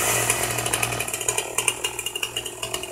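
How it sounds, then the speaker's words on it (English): A chainsaw cuts down coconut trees in an animated resort battle, giving a loud, steady buzzing drone with rapid rattling, ratchet-like pulses throughout and no voices. "You can't use a chainsaw to cut down the trees!"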